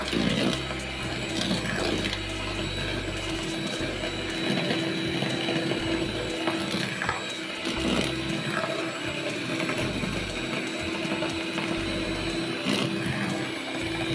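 An electric hand mixer runs at low speed through cake batter as egg yolks are added, a steady whirring hum with faint scraping, continuous and fairly near.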